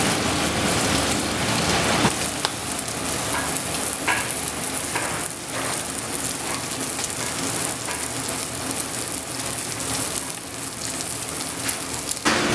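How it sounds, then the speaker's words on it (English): Regular bacon fries in a cast iron pan a few minutes in, making a loud, dense, continuous crackling sizzle with scattered sharper pops, heard up close and without any speech. "this is about 3 minutes in for the regular bacon going in the cast iron"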